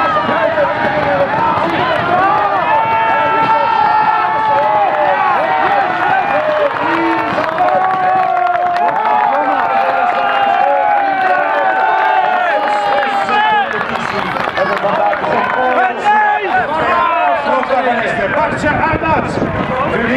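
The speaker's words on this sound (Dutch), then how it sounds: "Ook een heel warm applaus, dames en heren." A crowd at a cyclocross race cheers and applauds in a busy outdoor finish-area din, while a loud announcer keeps talking over it the whole time with echoing sound.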